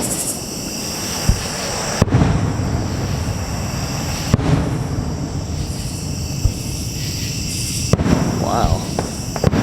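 Outdoor night ambience beside the Little Miami River with insects chirping steadily, punctuated by several sharp booms and crackles of fireworks bursting at a distance over Kings Island amusement park.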